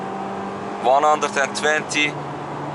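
A 2020 Mercedes GLA with a 163 hp 1.4-litre turbocharged engine drones steadily under full throttle from inside the cabin, while someone speaks briefly over the engine noise.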